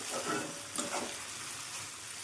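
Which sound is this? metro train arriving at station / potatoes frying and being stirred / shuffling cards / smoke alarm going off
potatoes frying and being stirred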